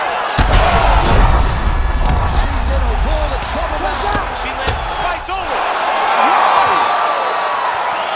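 Crowd roaring and cheering in an arena after a TKO in a UFC video game, a loud, dense, continuous wall of noise with whoops and thuds, while a commentator talks over it.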